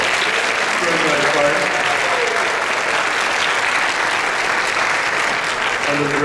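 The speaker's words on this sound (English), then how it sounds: "One more round of applause for the strings." Sustained audience applause fills a high school band's Christmas concert hall, a dense, steady wash of many hands clapping close and loud throughout, with a faint voice briefly audible underneath.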